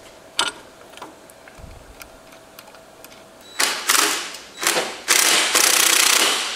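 Impact wrench working on a Harley motorcycle, several short bursts of loud buzzing rattle in quick succession after a stretch of quieter clicking and shop noise, close by.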